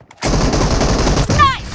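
Rapid gunfire from a PUBG Mobile team deathmatch, a dense sustained burst of shots that cuts in suddenly and keeps firing loudly, with a brief dip before more shots and a faint whistling tone near the end.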